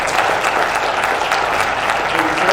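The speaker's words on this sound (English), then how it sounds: "let's give a big, warm round of applause for Mr. Doug Nesbitt." Loud, warm applause from a large audience, continuous clapping filling the whole moment.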